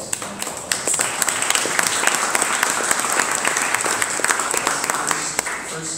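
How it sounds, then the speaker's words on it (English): A conference audience in Cluj-Napoca, Romania, breaks into sustained applause, a dense, even wash of many hands clapping that fills the room, with a voice faintly under it. "So let's all give you applause."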